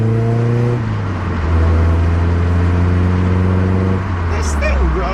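A carbureted four-cylinder Toyota Celica engine runs after a push start, a steady low drone that shifts pitch slightly as it settles, close by, with people talking over it.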